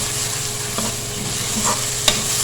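Onions for baingan bharta sauté in a pan, giving a steady close sizzle with a few light stirring scrapes and one sharp utensil tap, with no talking.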